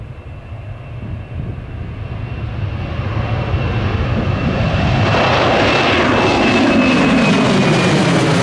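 An aircraft takes off from runway 2 at an airfield, its engine roar building steadily from a distant rumble to a loud, sustained, close roar with a slowly shifting pitch.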